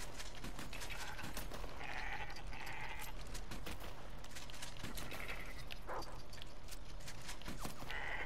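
Several sheep bleats in the video game Red Dead Redemption 2 rise over a constant noisy background, spaced irregularly across a few seconds, with scattered clicks and rustles.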